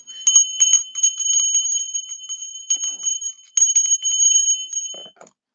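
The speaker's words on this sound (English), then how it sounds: "Let's do the bell." A bright, ringing bell is struck repeatedly in quick bursts, its clear high tones sustaining and overlapping before fading out near the end.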